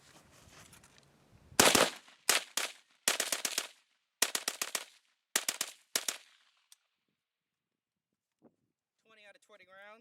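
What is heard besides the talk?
AK47 firing rounds from a TAPCO magazine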